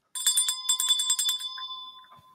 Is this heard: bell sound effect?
yes